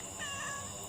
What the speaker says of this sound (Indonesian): mimin ditemani seekor kucing hutan